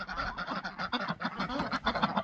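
Domestic ducks in a backyard pen, a run of rapid, raspy honking quacks repeating in a busy rhythm, close and fairly loud with no talk over them.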